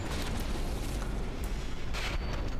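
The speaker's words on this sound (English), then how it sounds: "I think we had a pretty major internal explosion there." A battleship's internal explosion in the video game From the Depths makes a sustained, loud booming roar with rumbling low end and a sharper burst near the end, heard without talk.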